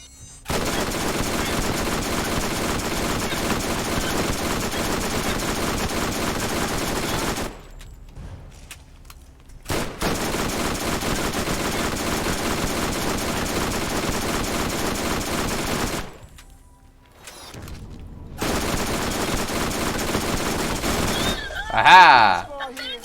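An enemy in Borderlands fires sustained, rapid automatic bursts in long stretches separated by brief pauses, loud and continuous, with a short sharp blast near the end.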